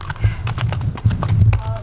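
Horses' hooves clip-clop in a loud, close, uneven rhythm of several strikes as the horses are led in to be unsaddled, with a voice talking over them.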